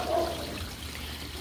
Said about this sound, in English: So we actually gonna add some more water to the koi pond.